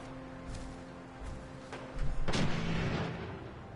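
Gunfire in Fallout 4, a few scattered, somewhat distant shots and thuds followed by a heavier booming burst and a lingering rumble, with no talk.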